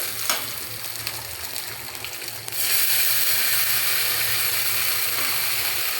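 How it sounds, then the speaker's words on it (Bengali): Grated coconut frying in a pan, a steady sizzle that jumps louder partway through and continues with faint stirring scrapes. "এখন নারকেলটাকে ভালোভাবে ভাজা ভাজা করতে হবে।"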